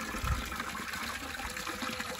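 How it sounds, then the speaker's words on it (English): Running water from a well, piped by a pump through an adapted old watering can into an old lavoir at a 19th-century château, gushing and trickling steadily at close range, with no voices. "But firstly, the sound of running water is amazing."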